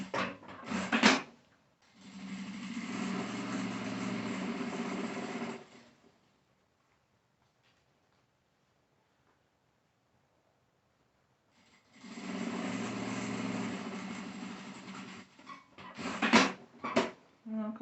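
Sewing machine topstitching the gusset seam of a small leather-style crossbody phone bag, running in two steady bursts of about four seconds each separated by a long pause, with brief handling knocks and rustles at the start and end.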